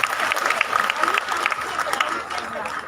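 An audience at a Jeevanvidya Mission gathering in Karjat clapping together in welcome, a dense, steady patter of many hands close by lasting throughout.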